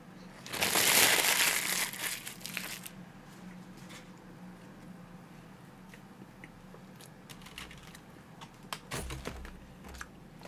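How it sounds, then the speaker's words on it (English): A cat walks across a computer keyboard, producing a loud burst of clattering key presses up front, then scattered soft clicks and taps trailing off over a quiet room background. "She just stepped on the keyboard"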